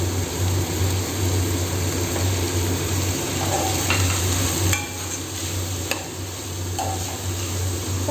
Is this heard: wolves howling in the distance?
no